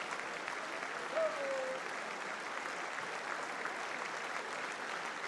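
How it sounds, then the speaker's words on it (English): Sustained applause for King Charles III from Members of Congress in a large chamber, a steady, dense wash of clapping at moderate distance with no break across the clip. "He arrives to thunderous applause."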